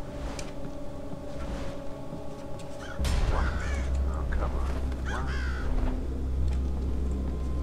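Crows caw in the Thief Master video game, several harsh calls standing out over a dense ambient background rumble, loud and fairly close.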